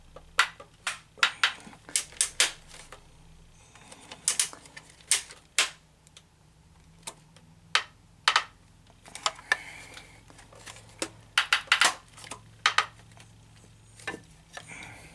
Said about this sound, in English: they're really, really strong ratchets